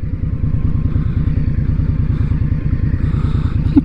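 A stock Indian motorcycle engine runs steadily on a test ride, with a loud, close, even low thrum and regular firing pulses throughout.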